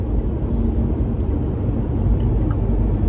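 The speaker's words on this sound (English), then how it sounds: "There goes my car being loud" A loud car engine rumbles steadily while driving, a continuous low drone filling the whole stretch with no talk over it.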